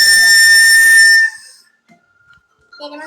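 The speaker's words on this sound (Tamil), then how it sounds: "கீழே வேற ஒரு விசில் கொடுத்துருக்காங்க" A toy whistle that came with candy gives a shrill, steady whistle for about a second, then stops; silence follows with a few faint stirrings and a brief soft voice at the end.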